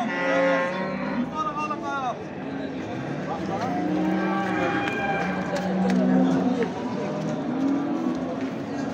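Cattle low and moo repeatedly amid a busy crowd at a livestock market in Çorum, Turkey, with people talking throughout in a noisy outdoor setting.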